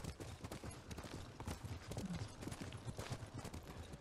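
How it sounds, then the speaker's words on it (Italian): Horse galloping in the Ghost of Tsushima video game, a steady run of hoofbeats that stays loud and dense throughout, mixed with game ambience and no talk. "Ok. Cavallo."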